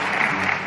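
Brief burst of steady applause from a city council chamber in Paris after a vote, dense clapping at even loudness for under a second.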